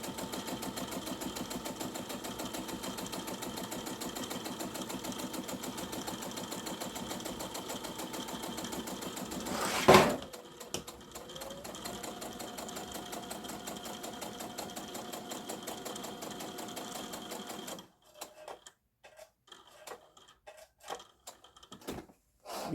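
A sewing machine runs in a steady, fast rhythmic stitch while hemming all the way around an apron. There is a brief clack partway through, and the run ends in quieter intermittent clicks.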